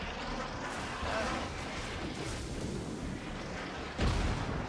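Naval gunfire and shell impacts boom and rumble in a dense, continuous battle din from World of Warships, as enemy ships shell a Shimakaze destroyer, with a heavier thud near the end.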